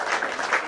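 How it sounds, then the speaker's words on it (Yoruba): An audience applauding at an adult education event, a steady dense patter of many hands clapping close by for a short burst. "ẹ já pàtẹ́wọ́ fún yín."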